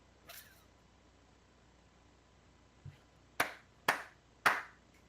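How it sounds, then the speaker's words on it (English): Three sharp hand claps made to mark an audio sync point during a live recorded show, evenly spaced about half a second apart, loud and crisp against a quiet room, preceded by a few faint small noises. "I'm going to do 3 claps just so we can spot it"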